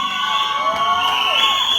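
A college crowd of law students at a stand-up comedy show cheers loudly and shrilly, a steady wall of high-pitched screams and whoops filling the whole stretch with a few voices rising above the mass.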